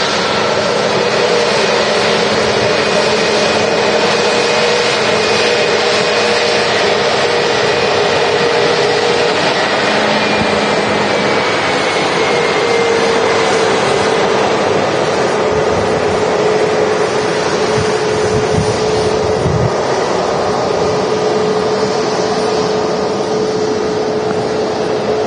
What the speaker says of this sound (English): Lovely pair of GE90s helping this aircraft get airborne, and also in a few minutes they'll be helping this aircraft slow down